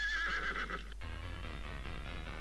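Horses whinny loudly in a video game race, a shrill neigh rising over the first second before a steady low rumble of running hooves carries on alone.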